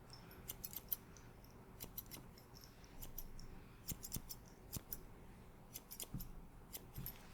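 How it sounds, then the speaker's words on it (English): Salon scissors snipping hair in close ASMR style, crisp quiet metallic snips in short bursts of several cuts with brief pauses between, very near and isolated in a quiet room. "Let us go back to our one and only scissors."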